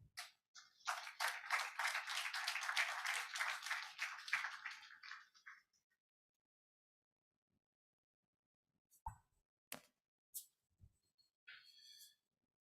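Applause from an audience at a tribute program swells into a brisk burst of clapping for about five seconds, fades to silence, then a few scattered, isolated claps follow.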